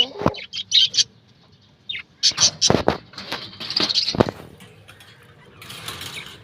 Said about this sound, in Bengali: আর এই এক জোড়া পাখি আছে নতুন দিছি